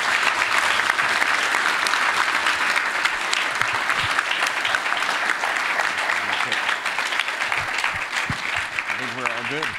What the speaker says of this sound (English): let's have a big round of applause for Jonathan